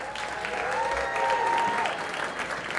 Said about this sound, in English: So let's give a warm round of applause for Kelly Ann.